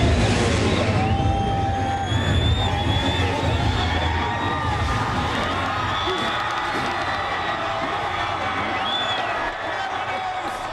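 A large Las Vegas crowd cheering at a record motorcycle jump, a dense continuous roar with whoops and shouts, fairly loud and steady throughout, with some talking mixed in.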